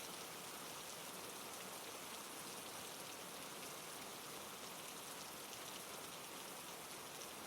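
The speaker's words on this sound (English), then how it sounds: "the sound of raindrops pattering against the windows created a constant, soothing rhythm" Steady, dense rain patters against windows in an even, constant wash, loud and close with no voices, only the continuous hiss of drops.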